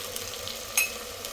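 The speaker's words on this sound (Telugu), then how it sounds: "ఈ అల్లం వెల్లిపాయ పేస్ట్ కూడా పచ్చివాసన పోయే వరకు ఫ్రై చేసుకోవాలి" Ginger garlic paste frying in a pan for a chicken gravy gives a soft steady sizzle, with one brief sharper crackle or spoon scrape near the middle, close and fairly quiet.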